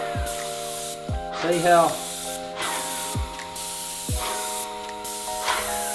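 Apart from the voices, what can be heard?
Contractor PC Compact airless sprayer with 308 tip spraying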